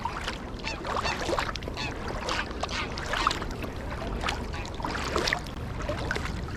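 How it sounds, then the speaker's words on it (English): A small boat paddled upstream on the River Thames at Reading on a calm day, rhythmic splashes of the paddle dipping and pulling through water, close and steady with no talk. "I'm going to paddle upstream."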